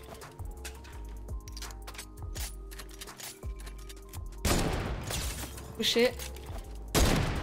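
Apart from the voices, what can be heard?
gunfire from a video game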